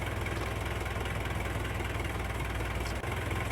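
A tractor engine idles in Farming Simulator 22, a steady low, rumbling drone with a faint rhythmic chug, holding level throughout and heard alone without talk.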